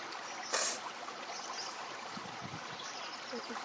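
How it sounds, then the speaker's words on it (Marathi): Plenty of water flows in a small stream, giving a soft, steady rushing and trickling close by, broken by a short splash early on and some faint voices. "इकडे ते वाहत आहे खूप पाणी"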